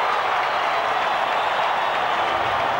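A rugby crowd applauds and cheers after a try, a dense, steady roar of clapping and voices that stays loud and unbroken throughout.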